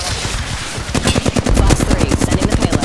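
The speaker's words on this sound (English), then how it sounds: "Enemy fire!" Rapid automatic gunfire in the battle royale video game Apex Legends, loud bursts of tightly spaced shots that intensify midway and keep rattling steadily to the end.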